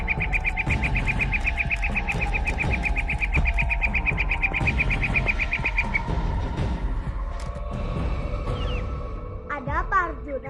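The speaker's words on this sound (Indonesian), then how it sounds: "Pangeran dengar suara burung itu?" Bird calls sound in a nighttime drama scene as characters prepare to slip away before dawn, a rapid repeated chirping running steadily through the first six seconds, then a few brief higher tweets near the end, all over a dense background of music and ambience.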